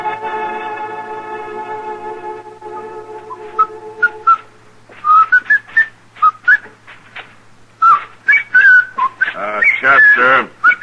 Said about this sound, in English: If you insist on whistling, would you mind doing it outside?